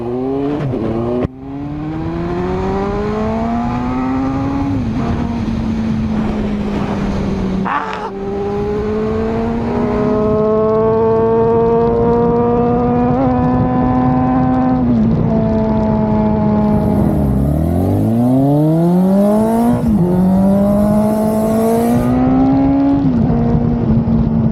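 A Honda Fireblade superbike engine screams through repeated accelerations and gear changes, loud and close, pitch rising and dropping in long sweeps with a sharp rev burst midway and a dip before climbing again.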